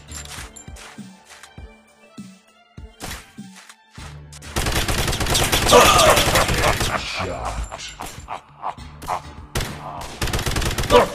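Gunfire from the Android first-person shooter Gun Games: scattered single shots early, then a dense sustained burst of automatic fire from about four seconds on, loud and close, with a few game voice callouts mixed in.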